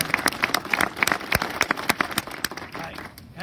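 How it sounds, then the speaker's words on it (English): Scattered clapping from a small audience at a sheriff's emergency fire press conference, honoring CAL FIRE firefighters: distinct individual claps in an uneven rhythm over a murmuring room, thinning out toward the end. "I think we need to give them a round of applause"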